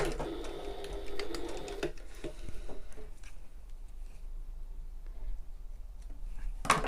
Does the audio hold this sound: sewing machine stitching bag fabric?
yes